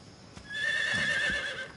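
A horse neighs in the Metal Gear Solid 3 remaster on PS5, one drawn-out whinny of nearly two seconds that sits close and fairly loud, with soft hoof clops behind it.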